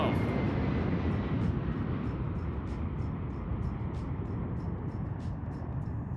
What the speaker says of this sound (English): Cosmic Girl speeding up, and we have